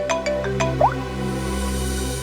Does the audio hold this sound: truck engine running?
no